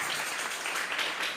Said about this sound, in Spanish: Vamos a regalarle ofrendas de palmas al Dios de la gloria.